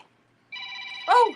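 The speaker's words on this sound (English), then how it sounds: "that's why my phone steady stays on silent, because it makes too much noise" A mobile phone rings close by with a loud, steady electronic tone that swells into a brighter burst at the end, heard alone with no talking.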